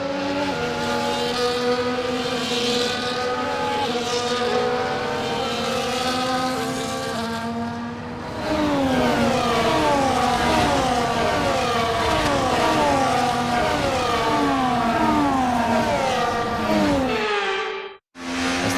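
F1 race cars in F1 24 on a formation lap around a wet track, engines droning steadily with layered high whines shifting in pitch, one car nearer after a change midway, then a brief dip before the drone resumes.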